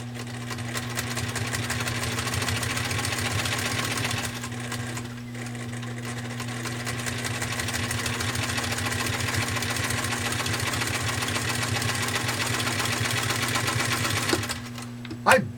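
A Singer 66 sewing machine stitches through two layers of denim with a steady, fast mechanical whir and rapid needle clatter running continuously, a brief slowdown near the middle and a small bump at the end.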